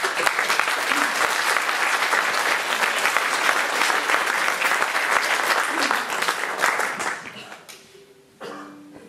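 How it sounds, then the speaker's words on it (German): An audience at an open stage event applauds a performer in a sustained, dense burst of clapping that fades out toward the end, followed by a brief quiet tone. "Und nun bitte ich um euch um einen Applaus für John."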